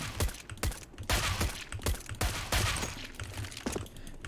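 Rapid video-game gunfire during CS:GO aim practice, sharp shots about every half second with short gaps, loud and close.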